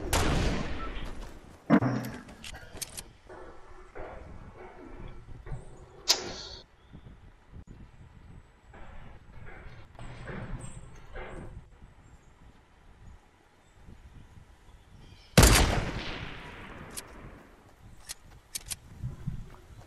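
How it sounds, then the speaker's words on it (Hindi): Sparse gunfire in the video game Fortnite, a few sharp distant shots scattered over a quiet stretch, with one loud close crack near the end. "फायरिंग हो रहा है भाई"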